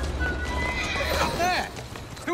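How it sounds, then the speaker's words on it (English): Horse in the Assassin's Creed Syndicate game, whinnying with rising and falling neighs over clopping hooves and a low rumble, close and loud, while a voice speaks over it. "Who's a good horse?"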